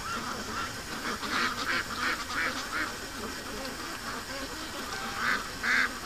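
Ducks, among them a Muscovy female and a disabled bird, honking and quacking outdoors near a lake in the early morning, with repeated calls rising from a steady ambient background.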